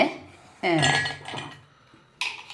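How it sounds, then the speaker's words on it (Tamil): Ice cubes drop into a glass for an apple smoothie, clattering and clinking loudly in a sharp burst, then ringing down, with a second clink of glass a moment later. "நம்ம ஐஸ் கட்டியை போட்டாச்சு"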